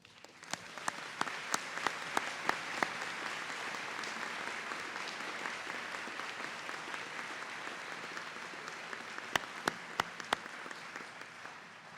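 Graduating students at a college fall commencement applaud their faculty, a broad steady wash of clapping with a few sharp nearby claps standing out, fairly distant and continuous for the whole stretch.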